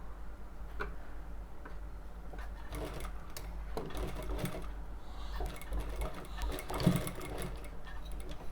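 A sewing machine runs stitches along a women's jacket in quiet, uneven bursts of close ticking and whirring over a low hum, with no voices.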